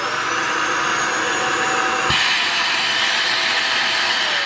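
A clogged Dyson Ball Animal 2 upright vacuum runs continuously with a loud, close, rushing whine, a brief thump midway slightly shifting its strained airflow tone.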